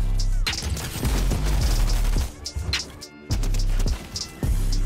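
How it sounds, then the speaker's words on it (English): Rapid bursts from a drum gun in Fortnite, loud and close, with chattering volleys broken by a brief pause before firing resumes. Game effects clatter around the shots. "These drum guns are like crazy good."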